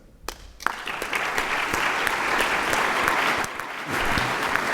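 A debate audience breaks into applause after a persuasive closing line, starting with a few claps and quickly swelling into loud, dense clapping from many hands that holds steady, dipping slightly near the end.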